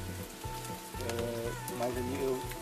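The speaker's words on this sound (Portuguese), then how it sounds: "A chuva tá passando." Rain patters steadily outdoors on a mountain range campsite, a soft, even hiss over a repeating low tonal pattern, with faint talk in the background.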